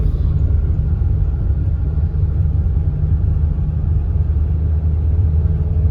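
Peugeot 406 engine pulling uphill in first gear, a steady loud low rumble from inside the car with no talking over it.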